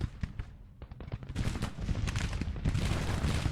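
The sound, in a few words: gunfire in the video game Grand Tactician: The Civil War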